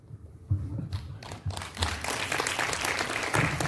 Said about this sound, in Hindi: तालियां हो जाने चाहिए